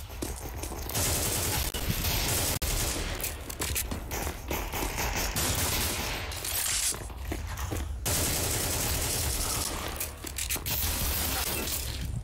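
An AK rifle fires in Counter-Strike 2, with loud, sustained bursts of automatic fire and rapid crackling shots that run almost continuously, broken by a few short gaps.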